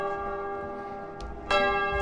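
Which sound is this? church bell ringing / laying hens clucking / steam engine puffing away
church bell ringing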